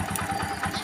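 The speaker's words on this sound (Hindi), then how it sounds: "और अब मैं बाइक की आपको आवाज़ सुना दूं" A Hero Honda CD Deluxe motorcycle with an aftermarket gas kit, recently after engine repair, idles close by with a steady low, even chug throughout, no voices over it.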